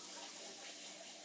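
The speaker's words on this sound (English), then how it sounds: "I'm also going to do a little water in there and mushroom broth" Water runs from a tap into a pot of vegan lasagna filling with mushroom broth and lentils, a steady faint hiss and gush with no talk.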